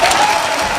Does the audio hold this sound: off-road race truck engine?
no